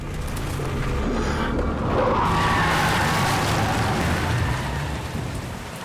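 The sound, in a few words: rain during a storm, from video game Silent Hill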